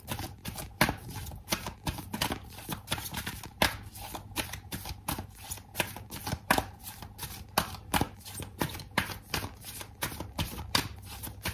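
Tarot cards are shuffled by hand in quick, crisp bursts of riffling and flicking, the sharp clicks repeating steadily and close up, with no talking.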